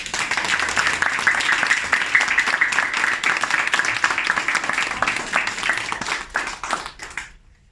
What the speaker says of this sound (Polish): zasługujecie wszyscy na wielkie brawa